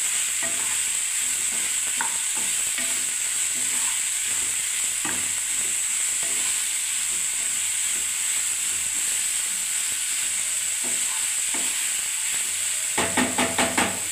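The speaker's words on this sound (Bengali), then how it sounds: "এবারে ভালো করে ভাজতে থাকবো বন্ধুরা এটাকে, ফুলকপি আলু টমেটোটাকে ভালোভাবে" Cauliflower, potato and tomato stir-fry in a pan with a steady, even sizzle and occasional scrapes of a spatula, ending in a short burst of quick, rhythmic stirring clatter near the close.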